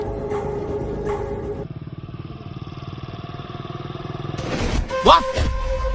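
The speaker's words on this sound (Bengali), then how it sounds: "একটা মোটরসাইকেল" A motorcycle engine drones steadily nearby and grows louder as it passes, with voices talking over it and a few knocks and thuds.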